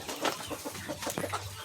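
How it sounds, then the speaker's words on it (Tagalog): Rhode Island chickens cluck softly in a small backyard coop, a few short clucks scattered over the clip amid light farmyard background noise. "Ito pala yung aming munting alagaan ng manok."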